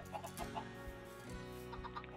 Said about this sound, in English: let's go ahead and breed these chickens again